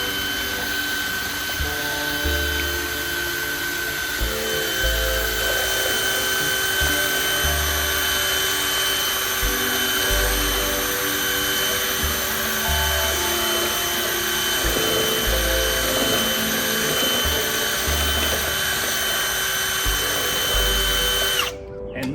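A power drill fitted with a paint stirrer runs steadily while mixing wood stain outdoors on grass, a loud continuous whirring hum with slight wavering that lasts nearly the whole stretch before stopping abruptly at the end.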